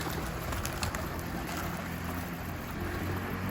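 A pigeon coos with low, soft, throaty calls toward the end, set against a steady outdoor background hiss.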